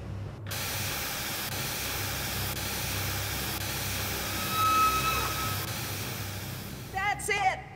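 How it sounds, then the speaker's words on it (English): Steam venting in the Jurassic Park video game: a loud, steady hiss that runs for several seconds, then cuts off into a short burst of clanking and mechanical sounds. "The steam has been vented."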